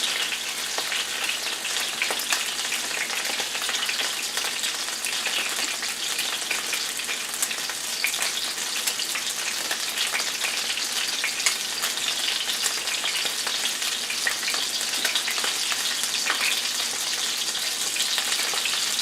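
Pork chops frying in a pan for a German pork and sauerkraut casserole, a steady close crackling sizzle with fine spattering pops running unbroken throughout.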